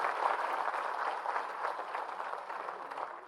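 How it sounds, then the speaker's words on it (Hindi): Sustained applause from a large audience at a cooperative conference in Bhopal, a dense steady wash of many hands clapping at an even loudness for the whole stretch, with no talk over it. "जोरदार तालियां बजाएं इस बात पे।"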